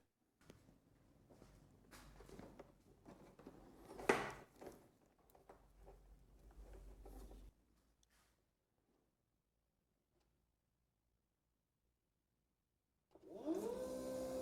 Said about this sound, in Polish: pompka nam już ruszyła, słychać ją nawet. Ruszył wentylator w webaście.